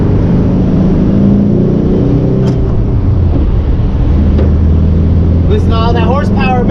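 A 1961 Volkswagen with a manual transmission drives on an open road, its engine a loud, continuous rumble under road and wind noise, with a voice talking over it.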